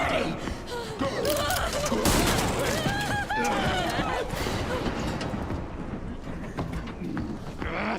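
Rapid bursts of gunfire ring out in a video game, layered under excited talking and shouting from players over several seconds.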